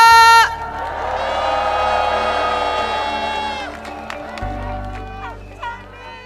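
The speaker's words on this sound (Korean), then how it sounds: "여러분 뜨거운 박수 함성 부탁드립니다" Crowd at a Korean opposition parties' political rally cheering, whooping and applauding as a party leader is called to the stage, a loud sustained wash of voices and clapping with a voice briefly audible early on.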